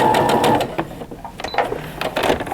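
A home sewing machine stitches a French seam pillowcase toward the folded edge, its rapid mechanical whirring running in close bursts with a brief pause in the middle.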